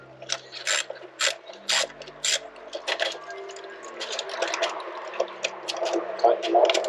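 A ratchet tightens the throttle body bolts on a Lincoln MKX during a spark plug job, giving a run of close, sharp clicking bursts in short strokes, then softer clicks under faint background noise.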